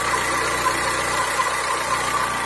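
A diesel car engine idles steadily at close range, a continuous low rumble with a slight knocking beat, running alone after fifteen minutes of work with a fuel system cleaning treatment, just before being switched off.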